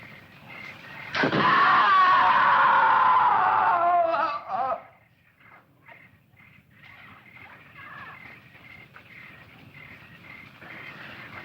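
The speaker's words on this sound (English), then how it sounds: "I'm sure I heard a scream." A single long, high scream rings out for about three seconds, then cuts off, leaving quiet background ambience with faint rustling.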